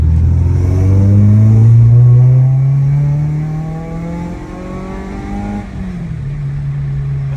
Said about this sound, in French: C'est dingue, c'est le bruit typé rallye.